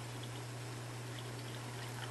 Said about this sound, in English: add that cup